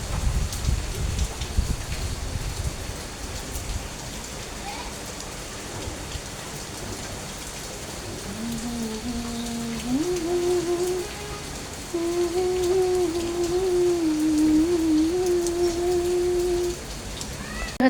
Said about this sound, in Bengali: অনেক জোরে বৃষ্টি।